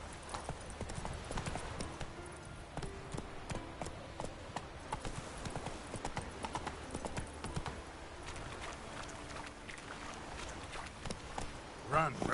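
Roach, a horse in The Witcher video game, gallops with a steady clip-clop of hooves running through the whole stretch, under talk and game sounds, with a brief louder burst near the end.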